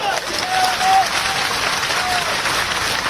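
Crowd applause at a Hindi political rally, a steady broad wash of many hands clapping that holds loud and even for about three seconds with faint whistles over it.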